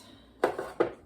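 Tomato sauce for spaghetti and chili base, made from frozen tomatoes, stirred in a nearly full pot: two short scraping clatters of a utensil against the pot, close and fairly loud, with no talking.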